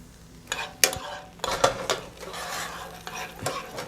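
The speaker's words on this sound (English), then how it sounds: "We're gonna add our pecans. Oh my God, more half and half. And then we're gonna give this a stir." A spoon stirring pecans and half and half in a pan, with scraping strokes and a few sharp clinks of utensil against metal over a soft simmering hiss, close and fairly quiet.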